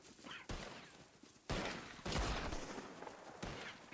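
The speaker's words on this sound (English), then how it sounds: "Jesus Christ, these are close shots here." Distant gunshots ring out in scattered bursts during a shootout in the video game Red Dead Redemption 2, several sharp cracks overlapping in a quiet, fairly faint mix.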